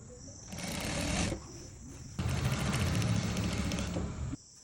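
A sewing machine stitching fabric for dhoti pants runs in two loud, close bursts of rapid whirring and needle chatter separated by a short pause, then stops.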